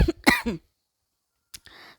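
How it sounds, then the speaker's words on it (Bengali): A person teaching an astrology lesson coughs. There are a few quick, close coughing bursts, then a pause, then a short softer cough and a throat-clearing rasp. "সরি, একটু কাশি এসে গেছিলো।"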